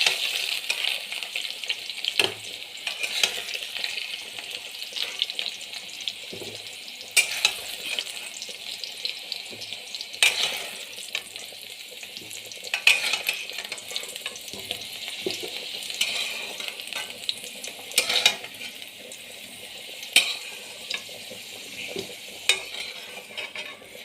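Potatoes frying in oil in a pan, a steady crackling sizzle interrupted by repeated sharp stirring clinks and scrapes of a spatula, with a brief watery splash partway through.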